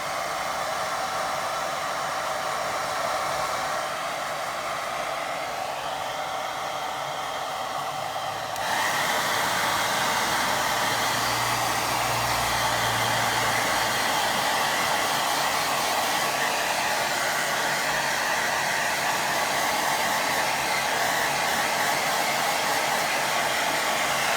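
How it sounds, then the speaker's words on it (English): A hair dryer on a gentle setting blows over a wet watercolour painting, a steady close whooshing hum that jumps louder partway through and then holds constant, with no talk. "That I'll get my heater on gentle. Gentle dry it."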